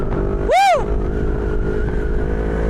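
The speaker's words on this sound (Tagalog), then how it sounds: "Ang bilis naman nun. Ano kayang motor yan?" A motorcycle speeds past on a group breakfast ride, its engine whine rising and falling in pitch in a sharp Doppler sweep lasting under a second, loud and close against steady road noise.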